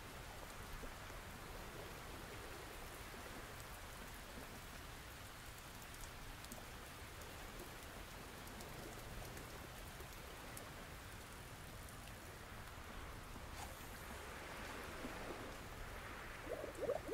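Steady rain falls in the Roblox game Fishing Simulator, an even continuous hiss with no voices, heard on its own throughout.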